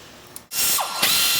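Close, loud ratchet clicking as caliper bolts are snugged on a Chevy truck's front brakes, running in a steady burst after a brief quiet gap, with no voices.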